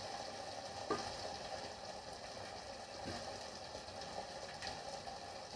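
Chopped tomato fries in a pan with turmeric, a steady low sizzle running evenly throughout with a couple of faint clinks of stirring, no talk.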